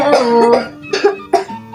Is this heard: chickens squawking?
no